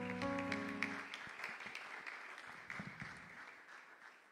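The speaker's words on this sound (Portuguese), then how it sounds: "Glorifica o Senhor com as palmas" Church congregation clapping during a worship service, the claps starting under a fading held tone and continuing as a soft, scattered patter that gradually thins out.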